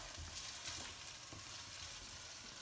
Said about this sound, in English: you fry the onions